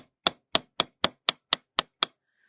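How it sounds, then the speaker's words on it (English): A hammer strikes metal laid on a block to harden it: eight sharp, evenly spaced, ringing blows, close and alone, followed by a brief faint tone. "your metal on to a block and harden it with a hammer"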